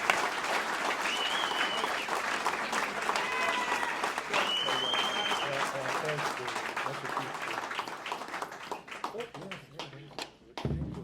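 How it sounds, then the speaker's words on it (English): Applause from a Hall of Fame ceremony crowd for inductee Bill Holliday, a sustained dense clapping that fades toward the end, with a voice and some scattered claps over it. "How about give you a big round of applause for Mr. Bill Holliday"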